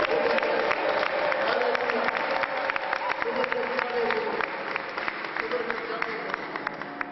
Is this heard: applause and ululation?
yes